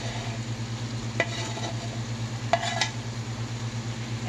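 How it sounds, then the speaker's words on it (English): Meat mixture with peppers and onions cooks in a pan on the stove, a low steady sizzle beneath a humming background with two brief metallic clinks of a utensil against the pan. "Then we're going to add our peppers and onions to the meat mixture."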